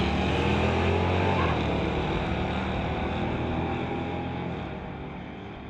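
Drag racing at a street-legal strip, a 1985 Chevy Regal and a 1985 Blazer roaring down the track; a loud, broad engine rumble fills the whole stretch and slowly fades as the cars pull away.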